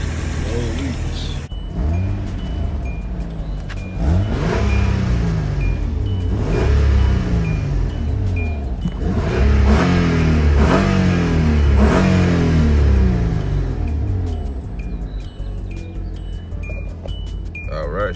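A car engine revs loudly after a 10,000-mile-overdue oil and filter change, its rising and falling revs running continuously through the whole stretch with a person talking over it.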